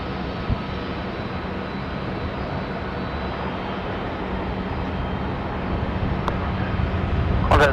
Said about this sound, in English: 787 coming in from Singapore.